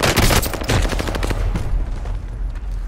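Dense bursts of automatic gunfire crackle close and loud in a Call of Duty: Warzone match, rapid shots stacking into a sustained volley that thins out toward the end.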